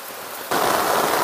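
Heavy rain pours down in a dense, steady hiss during a downpour in Railway Kodur, Annamayya district, starting softer and then jumping abruptly louder halfway through, with no voices.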